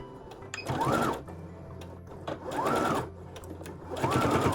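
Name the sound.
sewing machine sewing a straight seam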